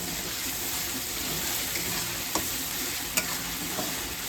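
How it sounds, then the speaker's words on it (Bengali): A paneer spice mixture of ginger and cumin is stirred as it fries in a pan, with a strong, even sizzle, close and steady, and a couple of faint utensil clicks. "ঢাকাটা খুলে দিই, তারপর একটু নাড়িয়ে দিচ্ছি।"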